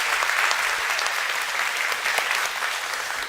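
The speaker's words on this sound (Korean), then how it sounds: "우리 격려의 박수, 감사의 박수 하도록 하겠습니다" A church congregation at a Sunday service claps together, a dense, sustained round of applause of even loudness lasting the whole moment with no voices on top.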